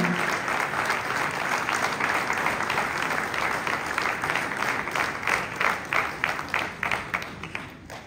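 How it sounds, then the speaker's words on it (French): Warm applause fills a hall during a mayor's New Year greetings evening in Castelnau d'Estrétefonds, a dense even clapping from a sizeable audience that holds steady for several seconds before thinning out toward the end. "On peut l'applaudir à Sabina."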